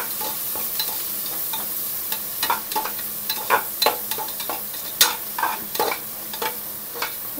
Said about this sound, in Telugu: ఫ్రై చేసుకుంటాం.